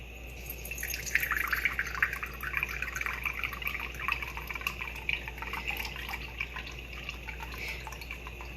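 Soy sauce pours into a kitchen pot in a continuous trickling stream with splashy drips, close and moderately loud, steady for several seconds.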